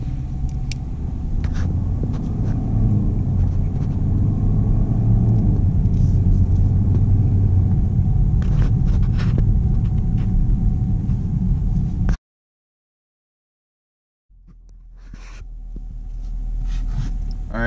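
A 2016 Camaro SS in sport mode cruises slowly through a neighborhood, a steady loud engine rumble with road noise that cuts out to silence, then fades back in.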